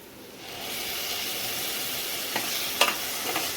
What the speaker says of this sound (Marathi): आता याच्यामध्ये आपण टोमॅटो आणि आलं लसूणची प्युरी टाकूया